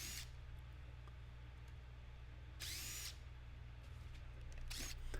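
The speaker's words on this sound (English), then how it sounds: "So I'm going to take the faceplate off first." A power drill or driver removes the screws of a faceplate from a woodturned bowl on a lathe, with three short whirring bursts over a steady low hum.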